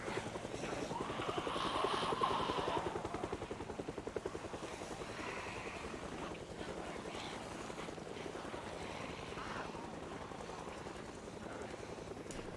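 A helicopter arrives during an in-game event in a survival video game, its rotor producing a steady, fairly quiet chopping drone that swells around the two-second mark and then continues evenly in the background.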